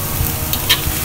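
A splash of water hits a hot wok while stir-frying Singapore noodles with vegetables and shrimp heads, giving short sizzling bursts and stirring scrapes, close and moderately loud, with no voices.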